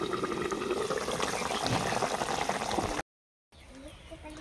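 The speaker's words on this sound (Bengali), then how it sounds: "ঝোলটা ফুটে গেছে" Rui fish curry with curry leaves simmering in a pot, a steady bubbling boil that fills the first three seconds, then a brief silence and a quieter continued bubbling.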